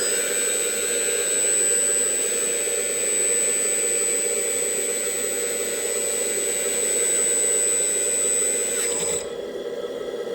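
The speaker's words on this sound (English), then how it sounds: "The hydraulic pump in the motor," An RC 4x4 dump truck's hydraulic pump motor runs with a loud, steady high-pitched electric whine and mechanical hum, close by, cutting off abruptly near the end.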